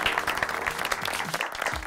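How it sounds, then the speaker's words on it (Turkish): An audience bursts into applause to welcome a performer on stage: dense, lively clapping from many people, with slightly uneven bursts and faint whoops or voices scattered within it, moderately loud throughout. "Kocaman bir alkış."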